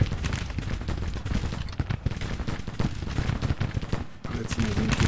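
Musket and cannon fire from a Civil War battle in the Grand Tactician strategy game crackles as dense, continuous, loud volleys throughout, with no break.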